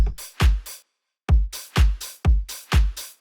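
A drum top loop plays in Ableton: a rhythmic pattern of sharp, punchy hits, a short pause, then the pattern repeats with bright, crisp transients, loud and close.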